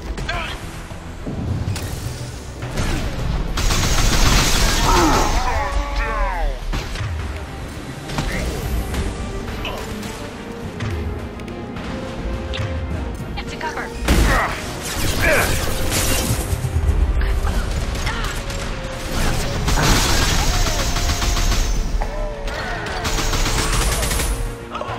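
Guns crack and rattle in a Mass Effect 2 firefight, scattered shots and clattering mechanical noise running throughout at close range, with people talking amid the shooting.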